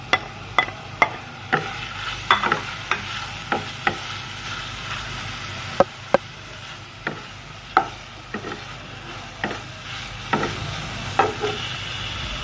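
Chicken frying lightly in oil in a pan while being stirred, with a constant sizzle and repeated sharp taps of the spoon against the pan at an irregular rhythm, close up.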